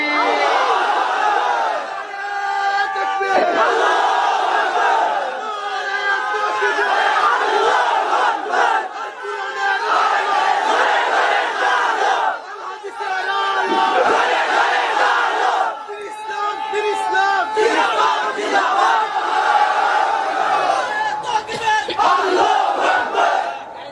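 A large crowd at a Bangla waz gathering roars Allahu Akbar back in answer to a takbir call. The loud chorus of shouts comes in repeated waves, each lasting a few seconds, with brief lulls in between.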